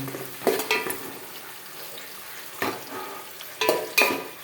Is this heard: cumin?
yes